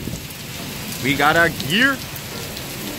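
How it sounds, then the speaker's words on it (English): Heavy pouring rain outdoors at night in Hawaii during a flash flood warning, a steady hiss of rainfall throughout with someone speaking briefly over it. "Pouring rain."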